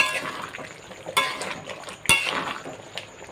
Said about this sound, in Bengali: আবার আমি ঢাকনাটা খুলে আবার আমি নাড়িয়ে নিলাম।